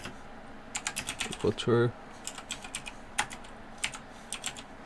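Rapid keystrokes on a computer keyboard while code is typed for a Laravel social media app, clicking in uneven bursts close to the microphone, with a person briefly speaking partway through.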